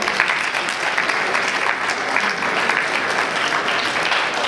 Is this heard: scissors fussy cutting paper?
no